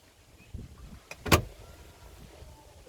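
A motorized seat in an Abarth 595 car moves briefly with one short electric whir, preceded by a faint click and soft thumps inside the quiet cabin.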